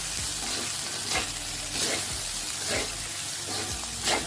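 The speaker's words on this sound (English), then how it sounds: "stir fry for a while" Cashew nuts are stir-fried into pineapple rice, a loud close sizzle broken by regular rhythmic scrapes and sweeps of a spatula, roughly one stroke per second.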